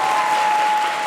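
Audience applause at a stand-up comedy show, a steady dense wash of clapping from a crowd that fills the whole moment without a break.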